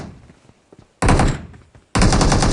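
Gunfire in a shooter video game: two loud, sustained bursts of rapid automatic fire, each about half a second long, following quieter faint clicks and thumps.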